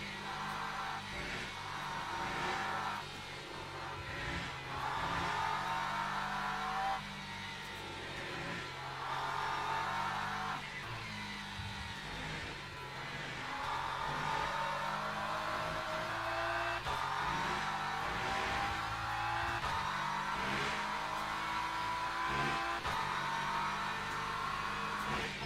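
A BMW race car, number 8, laps the circuit in the racing game Le Mans Ultimate at a six-hour COTA event; its engine drones steadily with rising and falling revs, distant and fairly quiet.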